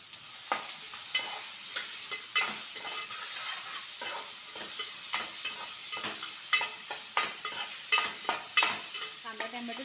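Chopped onion and tomato, salted, cooking and being stirred in a pan, with a steady close sizzle broken by scraping stirring strokes throughout, no speech over it.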